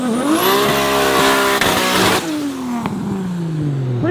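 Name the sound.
Lexus IS 300 and Mustang racing at drag strip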